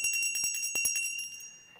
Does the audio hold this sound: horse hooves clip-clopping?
no